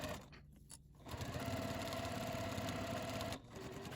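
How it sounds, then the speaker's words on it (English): A sewing machine stitching down the edge of a zipper pouch through three layers runs in a steady, close, rapid whirring hum for a few seconds after a brief start. "I'm going to take it over to my sewing machine and just sew right down that edge"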